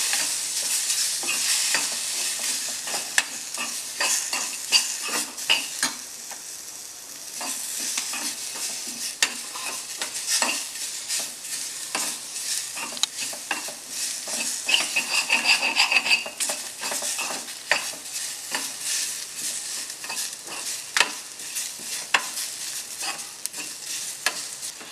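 Tomatoes and spices for vegetable paneer masala sauté in a pan, with a steady soft sizzle and repeated scraping and clinking of a spoon stirring against the metal, close by and without talk.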